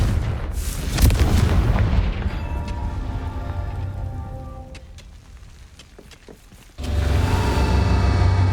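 A Confringo blasting curse detonates in the Hogwarts Legacy video game with a loud explosive boom, followed by a crackling, rumbling decay, and a second burst of noise kicks in near the end.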